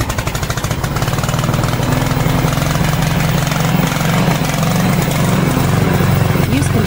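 VIGORUN VTC550-90 remote control lawn mower with snow plough attachment, engine running after a pull start, a loud, steady, close rumbling drone with a rapid pulsing beat that holds throughout.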